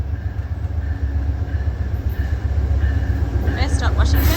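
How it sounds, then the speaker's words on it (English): Passenger train from Chicago pulling into a station near Harpers Ferry with a low steady rumble, faint rail squeal and a short high screech at the end as a voice talks. "Here comes our train."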